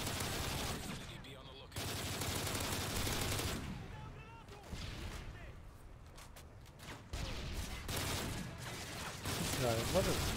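Sustained gunfire from enemies shooting at a sentry gun in the video game Modern Warfare 3 Survival mode, a dense, continuous battle din with intermittent bursts.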